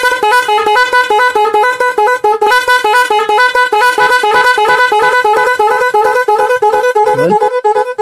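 A 12-sound multi-tone magic horn being tested, blaring continuously at close range as it cycles through shifting melodic tone patterns with steady loud output and no voices.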